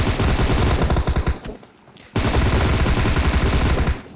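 Rapid automatic gunfire in a video game shootout, with loud, close bursts of tightly spaced shots that briefly break off before resuming just as dense.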